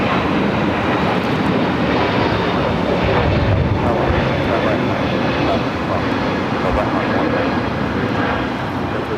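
A jet airliner taxis along a taxiway at Los Angeles International Airport, its engines giving a steady, broad roar that holds loud and constant throughout, with a voice talking over it.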